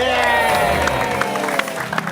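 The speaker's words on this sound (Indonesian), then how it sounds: "Apapun hasilnya kita kasih tepuk tangan." Studio audience applause and cheering from a comedy talk show crowd, a dense continuous wash of clapping lasting a couple of seconds, loud and steady, with voices mixed into the crowd noise.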